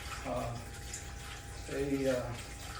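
Water streams steadily into a flowing-water church baptismal, a soft continuous trickle heard faintly beneath someone talking.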